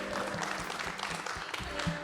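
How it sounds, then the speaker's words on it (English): An audience at a menswear panel discussion in a hotel claps in a brief round of applause, a steady patter of hands close by that is fairly subdued. "Say a big round of applause."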